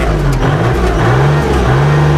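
Diesel engine of a 2012 Kubota L3608DT tractor revving, a steady loud close-up drone with the pitch dipping and rising as the throttle is worked, with no talk.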